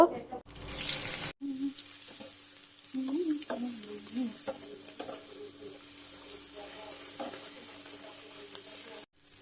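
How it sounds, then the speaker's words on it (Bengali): A few shrimp frying in a pan at night, a soft steady sizzle with occasional stirring clinks, and a brief loud burst near the start. "শুধুই অল্প কয়টা চিংড়ি মাছ এখন ভাজি করব"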